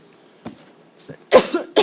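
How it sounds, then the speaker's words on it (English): A person coughs during a math lesson, a few short bursts with quiet gaps between, one sharp louder cough near the end, close and indoors with no speech. "Excuse my cough."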